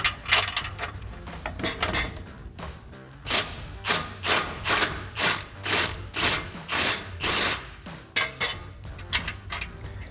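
Ratchet with a 16mm socket working the front bumper bolts on a Jeep Gladiator JT: a series of close, loud clicking ratchet strokes in quick repeated bursts, each stroke a rapid train of pawl clicks, with no talking.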